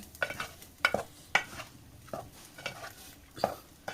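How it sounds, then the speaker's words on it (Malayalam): A spoon stirs erissery, a Kerala sadya dish, in a pan, making repeated scraping clinks and soft knocks against the metal roughly every half second, close and fairly quiet, with no speech. "നല്ല പോലെ നമുക്ക് ഇതൊന്ന് ഇളക്കി കൊടുക്കാം"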